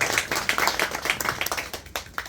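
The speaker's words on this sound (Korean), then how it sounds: "우리 오늘 참석하신 모든 분들 위해서 함께 박수 해주시겠습니다" Audience clapping at a school archive opening ceremony, a steady run of close, dense handclaps with a sharper burst near the end.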